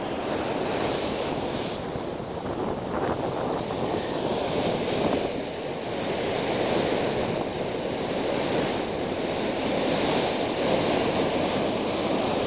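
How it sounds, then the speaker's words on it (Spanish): Sea waves breaking on rocks along a rocky shoreline during sea bass fishing, a steady loud roar and wash with buffeting wind noise, no talk. "esta ola me va a salpicar un poquito"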